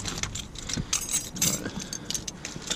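A small bag full of keys jangles and clinks in irregular bursts, close and fairly faint, with a low background rumble and no talking.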